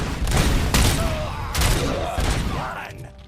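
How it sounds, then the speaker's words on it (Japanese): Grenade blasts from the RoboCop: Rogue City video game: several loud, booming explosions burst one after another with heavy low rumble and debris crackle, and a brief electronic whine shows between them. "また手榴弾かよ。"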